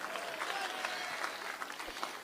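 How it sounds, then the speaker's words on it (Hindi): Applause from the audience at a Hindi poetry gathering (kavi sammelan): a faint, distant wash of many hands clapping, steady for about two seconds with no voices over it. "एक बार जोरदार ताली बजा दो"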